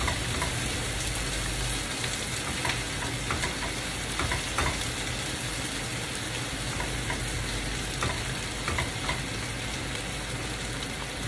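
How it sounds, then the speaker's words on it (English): Breakfast food fries in a pan with a dense, continuous crackling sizzle like rain, close and loud, with scattered pops and occasional stirring scrapes throughout. "We're gonna let that fry, fry, fry."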